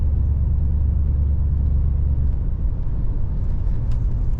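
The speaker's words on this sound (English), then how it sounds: "Today we're driving a 1985 Buick LeSabre." Inside a moving 1985 Buick LeSabre, a steady low road rumble and engine drone fill the cabin at constant loudness with no one speaking.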